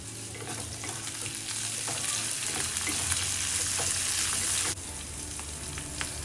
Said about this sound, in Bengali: দিয়ে দিলাম এতে ক্যাপসিকামগুলো একটু নরম হয়ে যায়